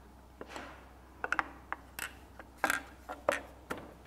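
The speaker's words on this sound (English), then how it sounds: "now I can install my cam cover." Metal cam cover being fitted onto an H2 engine, with a run of sharp clicks, clinks and small mechanical taps at irregular intervals, close and fairly quiet, no talking.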